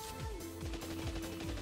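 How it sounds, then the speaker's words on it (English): Shotgun blasts from the RWBY Yellow animated trailer come in a few sharp, moderately loud bursts over a steady tonal music bed, with no talking. "She used the recoil of the shotgun to push back."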